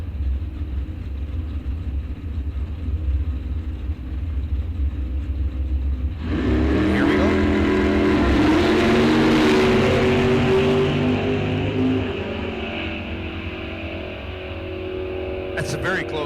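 A dragster and a Ford Fairmont race down a drag strip, a steady engine rumble swelling suddenly into a loud, roaring charge midway and holding strong before easing off, with a background announcer's voice.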